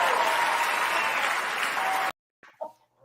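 A clapping sound effect played by a podcast production crew brings a burst of crowd applause. It runs for about two seconds and cuts off abruptly, leaving near silence with a few faint noises.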